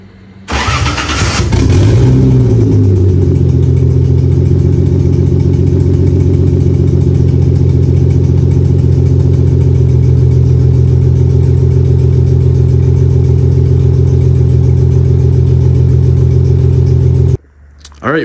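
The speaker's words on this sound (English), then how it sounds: "we got to start, but we have a big exhaust leak, which I'm sure you heard" A 2JZ engine swapped into a Nissan 300ZX cranks and fires up, then settles into a loud, steady idle with a raspy drone from a big exhaust leak, heard close and continuous until it cuts off near the end.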